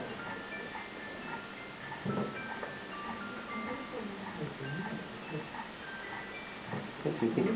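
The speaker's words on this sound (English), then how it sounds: "I don't know if that's meant to be a glockenspiel or something" Lime green Casio SA46 keyboard playing a bright, bell-like glockenspiel-style tone in a short melodic line of chiming notes, faint beneath a voice talking over it.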